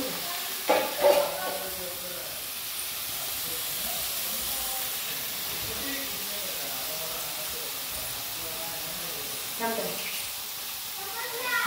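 Water from a bottle hits a hot pan of spiced chicken gravy, setting off a steady, close hiss and sizzle of steam that lasts throughout, with short louder bursts near the start and end.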